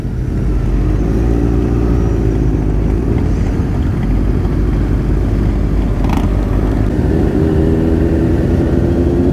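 Motorbikes of all sorts roll slowly past at an outdoor bike meet in Erskine, a steady low engine rumble that holds throughout, fairly close and loud with no talk.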